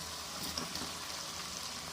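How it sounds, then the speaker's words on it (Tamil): Steady crackling sizzle of aval vadai (flattened-rice fritters) deep frying in hot oil, even and continuous throughout. "இப்போ எண்ணெய் சூடாயிடுச்சு இதை போட்டுருவோம்"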